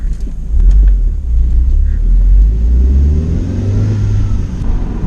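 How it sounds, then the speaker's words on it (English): A tuned B6 Audi A4 1.8T Stage 1+ rolls over a speed bump, giving a low rumbling thump and shifting engine drone that stays loud and close throughout, with no voices. "Oh, speed bump."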